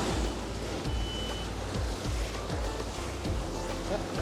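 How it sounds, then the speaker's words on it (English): Diesel engines on a cruising sailboat off Indonesia start and settle into a steady low rumble, with rhythmic thumps, wind and water noise around it. "Starting the engines."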